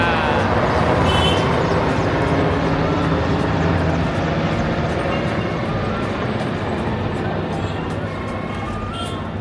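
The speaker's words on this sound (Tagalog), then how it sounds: "Wow, another helicopter oh." Army helicopters flying over Kathmandu Durbar Square in Nepal, a loud, steady broadband engine roar and rotor rumble filling the whole stretch, slowly fading slightly toward the end.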